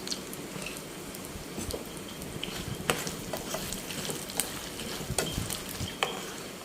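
Peanuts fry in hot oil with tempering spices for a tamarind rice dish, giving a steady faint sizzle broken by scattered sharp pops and crackles, close by, with no voices.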